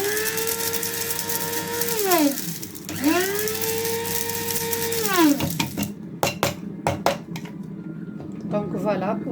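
An electric blender grinds one teaspoon of ingredients into powder, with two long rising-and-falling whirring runs followed by clattering knocks of the container, close by.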